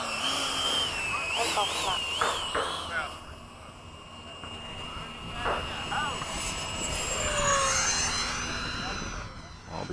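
A 70mm FMS F/A-18 model jet taxis out, its ducted-fan whine rising and falling in pitch at close range while voices talk over it.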